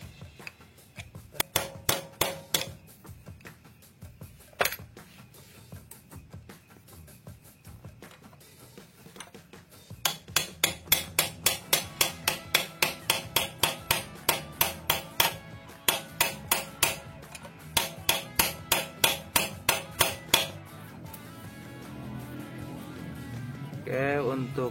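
Hammer blows on a chisel leveling a part of a Honda CB 100 motorcycle engine, a few scattered strikes, then a long fast run of sharp rhythmic metallic taps, close, with talk in between.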